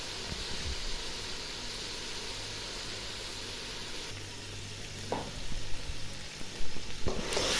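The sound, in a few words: chicken frying in oil with spices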